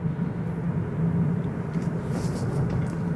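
A Mazda CX-3 diesel engine drones low and steady as the car accelerates, a continuous rumble heard from inside the cabin.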